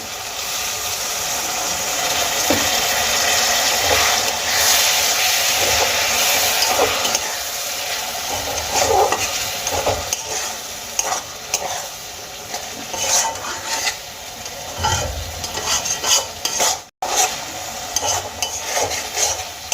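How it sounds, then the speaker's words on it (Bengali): Ground spices fry in oil with a splash of water, giving a busy hiss and sputter while a utensil scrapes and clinks against the pan in uneven bursts, briefly dropping near the end. "এখানে মশলা খুব সুন্দর করে কষানো হয়ে গেছে মশলা থেকে তেল ছাড়তে শুরু করে দিয়েছে"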